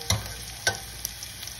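Scallops frying in a pan for Nova Scotia scallop burgers, with a quiet steady sizzle broken by two louder stirring scrapes near the start and middle.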